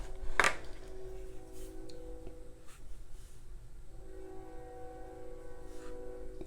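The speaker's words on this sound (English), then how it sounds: "That train is loud." A loud train passes near a home workspace, opening with a sharp burst and a horn-like tone, then carrying on as a sustained rumble with steady tonal hum lines and faint scrapes, with no voices.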